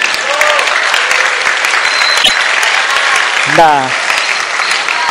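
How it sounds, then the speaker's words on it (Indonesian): Audience applause at an Isra' Mikraj school celebration at SMAN 1 Kerinci. A dense, loud wash of clapping runs throughout, with a voice speaking briefly over it near the end. "Tepuk tangan."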